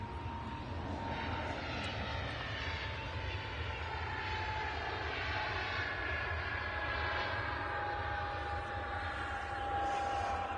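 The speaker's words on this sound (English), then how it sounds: "It's an A320 Neo." An EasyJet Airbus A320neo airliner at Manchester Airport gives a loud, continuous jet engine roar with a whining tone, holding steady throughout with no talking.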